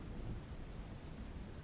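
Heavy rain pours down during a thunderstorm in Vadodara, a dense, steady hiss with a low rumbling undertone and no voices.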